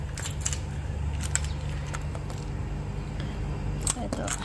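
Metal keys jangle and clink in a few scattered bursts over a steady low hum and background noise, fairly close.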